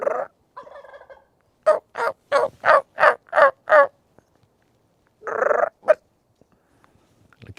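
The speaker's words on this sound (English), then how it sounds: "See him gobble?" A turkey gobbling close by, a rapid series of loud rattling gobble bursts followed by a few shorter calls in a quiet outdoor setting.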